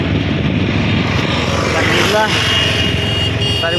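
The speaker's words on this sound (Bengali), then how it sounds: "আমি বাইক চালাচ্ছি" Motorcycle being ridden outdoors, with a loud, steady engine drone and wind rumble throughout and a voice speaking over it.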